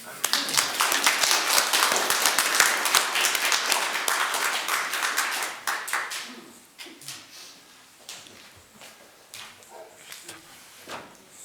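Audience clapping at an Icelandic gathering, starting as loud dense applause, then thinning after about six seconds into scattered claps while voices talk.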